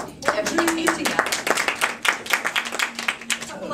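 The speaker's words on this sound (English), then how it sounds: "that's a big round of applause to our Toastmaster" A big round of applause for the Toastmaster at a Toastmasters meeting: many people clapping in a dense, continuous patter for several seconds, close and fairly loud, with a voice briefly audible at the start.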